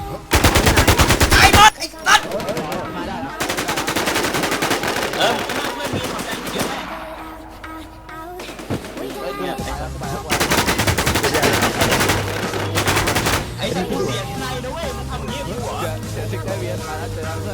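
Rapid automatic gunfire from the video game Infestation, loud and close, comes in several long bursts separated by brief pauses, with game music and sound effects underneath.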